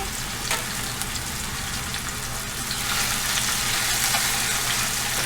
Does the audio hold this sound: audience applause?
no